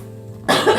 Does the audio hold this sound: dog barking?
no